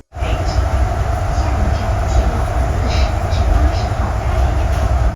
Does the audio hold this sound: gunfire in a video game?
no